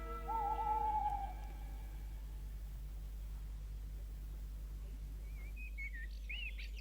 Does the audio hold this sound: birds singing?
yes